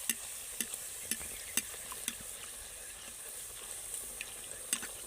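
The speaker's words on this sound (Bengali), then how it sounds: "কচুরিটা দেখুন এমনি এমনি কিন্তু তেলের মধ্যে ভেসে উঠছে এবার আমি নাড়বো" Pea kachori frying in hot oil, a soft continuous sizzle with a few sharp spatula taps and scrapes spaced through it as the oil is stirred, fairly quiet and close, no talking.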